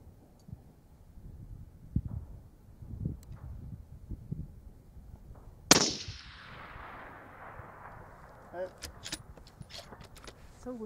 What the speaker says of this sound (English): These are all like center shots, Ty.